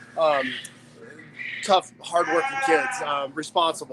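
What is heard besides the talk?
sheep bleating at a county fair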